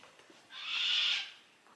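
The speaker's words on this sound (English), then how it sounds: "Fucking cockatoo. I hate it." A cockatoo gives a single harsh, screeching call lasting under a second, fairly close and standing out alone against a quiet room.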